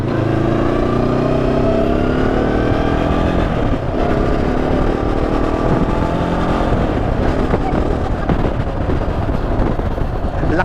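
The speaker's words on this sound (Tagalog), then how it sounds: "Ang lakas ng makina." Motorcycle engine revving loudly and close by, a dense, continuous roar with pitch sweeps as the throttle rises and falls, with faint voices under it.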